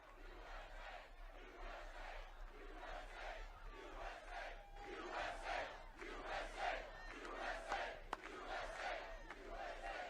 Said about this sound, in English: What an incredible crowd.